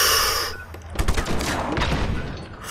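Gunfire in Just Cause 3 rings out as a loud, dense volley of rapid shots and blasts that follows a sustained rushing noise and stays heavy and close.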